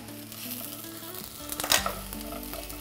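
Onion chutney with roasted peanuts and tamarind paste cooking in a pan, a steady soft sizzle with a brief louder burst of stirring partway through, no voices.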